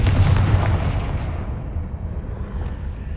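A Confringo blasting curse from the Hogwarts Legacy video game erupts in a loud, booming explosion close up, then decays into a long rumbling roar that fades gradually with no one talking.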